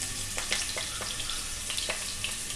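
Mutton keema balls sizzle in hot oil in a pan over a low flame, a steady close frying hiss broken by a few soft splashes and crackles as each ball drops in.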